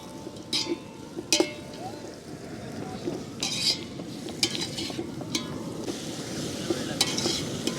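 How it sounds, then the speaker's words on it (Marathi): Chopped onion and tomato frying in oil in a pan, with a continuous crackling sizzle and repeated sharp scrapes and clinks of a spoon stirring against metal, close by, steady throughout. "हा कांदा आहे चिरलेला टमॅटो आहे ते आता चांगलं परतून घ्यायचं"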